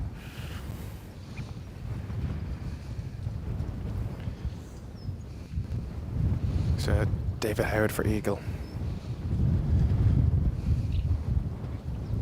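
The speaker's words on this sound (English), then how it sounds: "The gust is just swirling around here." Gusty wind buffets the microphone on an open golf course during the final round of an amateur championship, a steady low rumble that swells and eases, with a commentator talking over it and a brief crowd announcement partway through.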